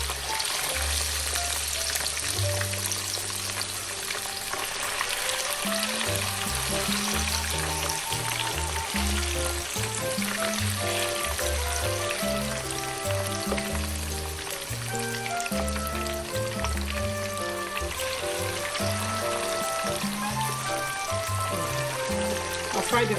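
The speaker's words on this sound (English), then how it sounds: "And I just have to fry the fish" Hake fish fries in a pan with a continuous crackling sizzle that lasts throughout, set under steady background music.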